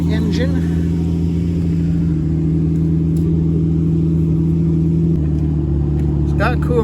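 A 3.1-liter car engine idling at an auction lot, a loud, steady low droning hum with a constant mechanical rumble held close by for the whole stretch.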